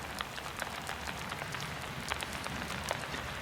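Steady rain patters on a hard surface close by on a road near Interlaken and Spiez, Switzerland, with scattered sharp drips over a constant hiss and no voices.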